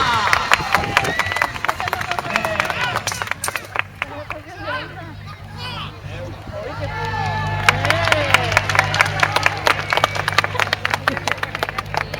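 Crowd at a medieval fair joust cheering and clapping, with dense bursts of applause and shouts that swell, dip briefly in the middle, then rise again, while voices call out amid the noise.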